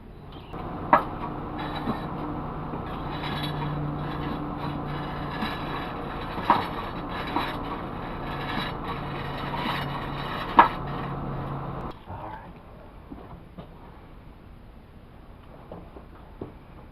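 A homemade 12-inch cast concrete treadle grindstone turns with a steady low rumble and hum, marked by occasional sharp knocks, until the drone drops away after about twelve seconds and only faint clicks remain.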